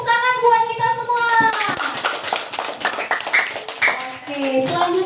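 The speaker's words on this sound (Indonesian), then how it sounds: "Tepuk tangan buat kita semua." Schoolchildren in a primary classroom clap their hands together, sharp overlapping claps at close range that start after a brief sung or spoken opening and continue with children's voices mixed in.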